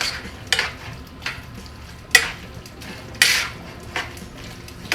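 A spoon stirs keto chicken alfredo in a pan off the heat, making a few scattered scrapes and clinks against the metal between quieter stretches, with a faint sizzle underneath.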